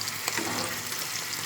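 Masala sizzles and fries in a pan while being stirred, a dense, continuous close-up hiss with a faint scrape or two, no voices.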